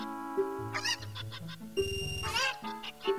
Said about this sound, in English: Oh, these chickens are loud.